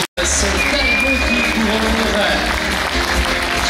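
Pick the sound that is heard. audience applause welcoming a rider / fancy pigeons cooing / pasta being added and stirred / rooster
audience applause welcoming a rider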